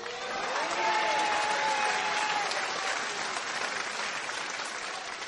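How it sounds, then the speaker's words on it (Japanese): A large crowd at a professional wrestling event breaks into dense, sustained applause and cheering, a steady loud wash of clapping with voices mixed in. "先ほどの皆さんのものすごい声援、心の中にしっかりと受け止めたいと思います。"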